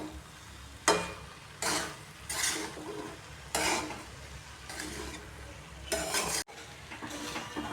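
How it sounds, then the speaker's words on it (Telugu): Fried rice is stir-fried in a pan, with repeated scraping and tossing strokes of a spatula at an irregular rhythm over a soft, steady sizzle, close by and with no voices. "ఒక 2 నిమిషాలు అంతా కలిపి ఫ్రై చేసుకోవాలి."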